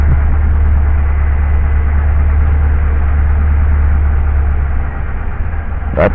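A 1987 Ford Crown Victoria idles close by, a loud, steady low rumble that holds throughout, with a brief sharp noise right at the end and no talking.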